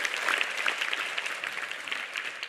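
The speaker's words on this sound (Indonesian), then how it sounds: "ini beliau ini juga santri, tepuk tangan dong" A hall audience bursts into brisk, full applause for a youth ministry official, a short continuous wash of many hands clapping with no voices on top.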